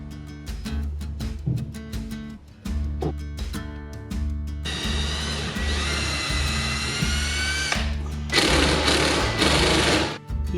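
A power drill pre-drilling and driving brown number 8 2.5 inch deck screws to toenail a rustic rebar railing off grid in the Adirondacks: a whining motor runs in bursts, rising to sustained high-pitched spinning with a rhythmic low thump beneath, close and loud.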